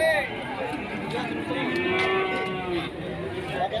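Young bull cattle at a livestock market moo in drawn-out, loud calls close by, one long low bellow in the middle with others overlapping, while voices and crowd noise continue underneath.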